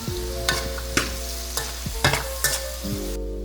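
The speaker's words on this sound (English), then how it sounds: "Toss chicken breast into the pans and stir everything all together" Chicken breast stirred in a hot pan for kung pao chicken, with a steady sizzle under sharp, repeated scraping strokes roughly every half second, close and fairly loud, with no talking.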